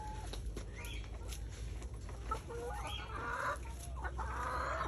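Rhode Island Red hens clucking in a coop, with several short, overlapping clucks and squawks spread across a few seconds, fairly quiet and close, with no talking.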